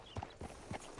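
A few hoof clops from a horse in a video game, soft and fairly close, spaced in an uneven walking rhythm over about a second.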